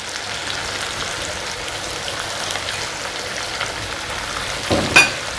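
Chicken frying in a karahi for Sindhi chicken karahi, a steady bright sizzle that stays even throughout, with a brief louder clatter near the end and no talking.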